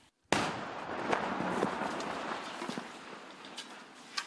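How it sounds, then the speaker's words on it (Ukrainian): One sharp distant explosion breaks a brief silence in an industrial zone, then a long rolling rumble with crackling echoes trails off over several seconds, moderately loud. "час від часу і посеред дня чуємо гучні вибухи"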